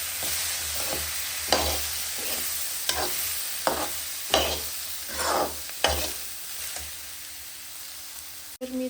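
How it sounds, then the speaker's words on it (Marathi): Chana dal for puran poli stirred through hot oil in a pan: a steady sizzle broken by repeated scraping strokes, close and alone, ending with a sharp click. "आता आपण डाळ टाकूया हलवून घेऊत आपण"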